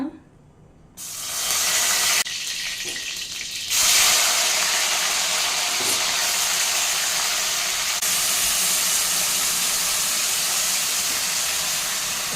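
Tomatoes dropped into a hot pan for tomato pickle set off a loud, broad steamy hiss that surges after a brief pause and then sizzles on steadily and close up, with no voices over it.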